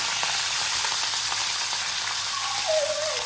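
Cumin seeds and curry leaves sizzle in hot oil in a kadhai, a steady loud crackling hiss up close and uninterrupted, with no voices.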